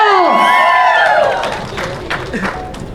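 Applause, clapping and cheering from an audience greeting actor Shivanna on stage at a film trailer launch event, loud and sustained, then thinning out, with music and voices mixed in.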